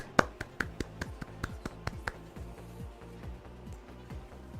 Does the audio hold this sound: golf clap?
yes